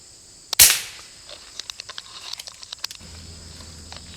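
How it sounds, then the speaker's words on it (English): A single sharp crack from an FX Impact .22 air rifle firing a 25-grain pellet at a squirrel in woodland, followed by a scatter of small ticks and patters as debris falls through the trees. "I'm getting ready to take this shot right here."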